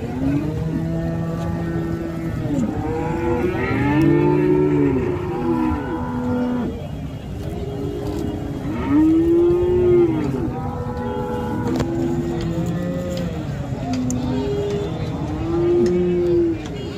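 Several cows tethered at a Sangola livestock market moo again and again, loud and close, their long rising-and-falling calls overlapping against a low background rumble.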